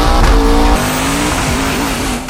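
A drifting car roars with a high revving engine and squealing tires, loud and close, the engine note rising and wavering while the rubber screeches continuously.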